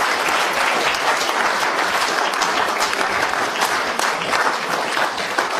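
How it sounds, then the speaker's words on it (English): A large show audience gives a loud, dense round of applause for a volunteer named Oliver being called up on stage, continuous and even throughout. "Give Oliver a big round of applause."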